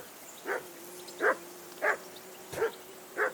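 A dog barks repeatedly in the medieval setting of Kingdom Come: Deliverance II, five clear mid-distance barks spaced about every two-thirds of a second over a quiet background, no speech.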